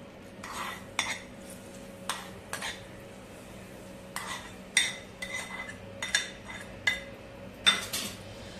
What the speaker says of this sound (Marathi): चांगली फोडणी टोमॅटोच्या चटणीमध्ये एकजीव करून घेऊया